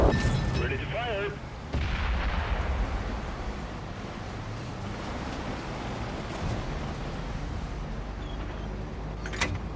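A tank cannon fires in a tank video game on Xbox, a heavy blast followed by a long rumbling roar that fills the rest of the clip, with a short electronic voice cue near the start.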